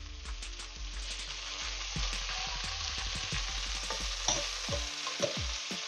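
Chicken sears in a smoky-hot pan, a loud steady sizzle close up with scraping and stirring knocks scattered throughout, no voices.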